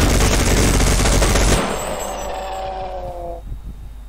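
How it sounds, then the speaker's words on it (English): A minigun in the Sven Co-op video game roars in a dense, continuous rattle of rapid fire, then spins down with a whining tail that fades over the next two seconds, loud and close. "this minigun is helpful"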